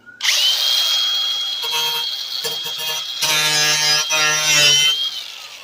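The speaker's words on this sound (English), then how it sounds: "Let's give it the old grinding test." A power grinder bites into aluminum scrap metal, spinning up to a loud, steady high-pitched whine, with its tone shifting as the disc presses and scrapes against the workpiece, then winding down.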